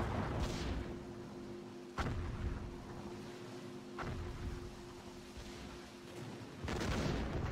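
9.2-inch naval guns fire in the game Distant Guns: Jutland, a series of sharp, distant-sounding reports spaced about two seconds apart over a steady low hum of battle ambience.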